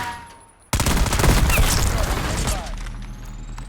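Gunfire in a Call of Duty Search & Destroy match breaks out suddenly after a quiet moment, a loud burst of rapid automatic shots and overlapping reports that rattle on and gradually thin out.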